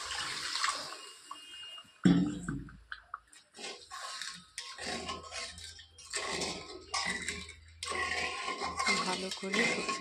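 A generous amount of water is poured into a pot of thin tilapia curry with mustard and potatoes. Splashing, gurgling bursts come and go, mixed with clinks of a utensil against the pot, close and fairly loud, with no one speaking.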